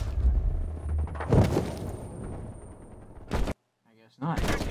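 Gunshots fired in Call of Duty: Black Ops Cold War, a run of close, loud bursts and blasts in quick succession, broken by a short silence before firing resumes.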